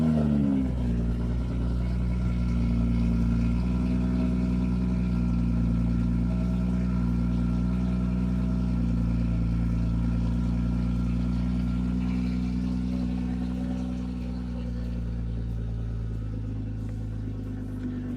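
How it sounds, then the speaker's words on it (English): A BMW M340i with an aftermarket downpipe exhaust idles steadily after a cold start, a deep, rich rumble with a slight rise in tone at first, then settling into an even, sustained drone. "we had to start the morning with a beautiful cold start. And it is the whole reason why we got this downpipe."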